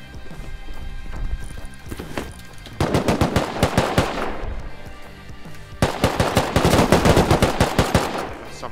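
Rapid bursts of automatic gunfire in the survival video game Rust, loud and close, firing in two long rattling volleys with a short lull between them.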